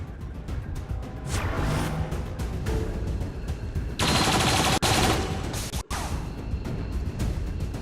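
Bursts of gunfire in the video game XCOM, rattling and overlapping in a sustained volley with sharp swishes and a heavy crash, loud and close, with no talk.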